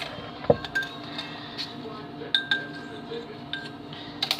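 Bath truffle ingredients being mixed in a bowl, with intermittent clinks and ringing taps against glass or metal spaced a second or so apart, moderately close.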